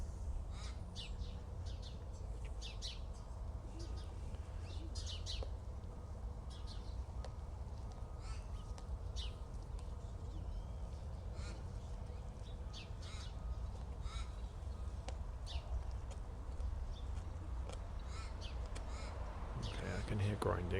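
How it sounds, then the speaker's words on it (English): Crows cawing repeatedly over a steady low rumble, the harsh calls scattered and fairly faint, with some background noise throughout. "I think the birds have discovered you."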